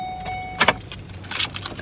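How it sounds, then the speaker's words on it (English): Car keys jangling as they are pulled from the ignition, two quick metallic bursts close up, brief and clear. "I'll take my keys out."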